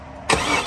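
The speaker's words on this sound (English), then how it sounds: "This car starts and runs easy." A 1977 Pontiac Trans Am Code 19 Black Bandit restomod with a 5.7 LS1 V8 fires up, a sudden burst of engine noise after a quiet moment, then steady running close by.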